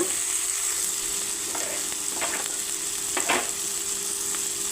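Onion and tomato sautéing with salt for a cauliflower egg curry, a constant bright sizzle with a few scraping stirs of a spoon against the pan, close and without talk.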